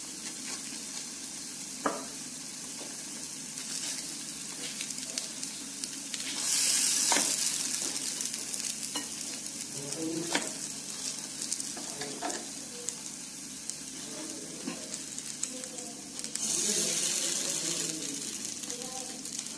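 Semolina paste and potato balls cooking in an appe pan, a steady close sizzle with soft clinks and scraping from a spoon, plus brief louder hissing bursts, no voices.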